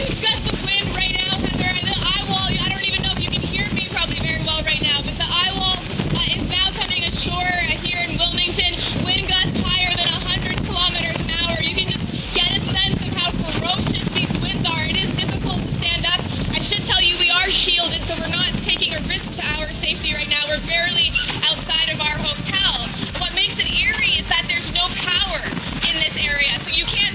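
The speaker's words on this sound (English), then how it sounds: "Well, we're getting a huge gust of wind right now, Heather." Strong wind from Hurricane Florence at landfall roars continuously against the microphone, loud and unbroken, while a reporter talks over it.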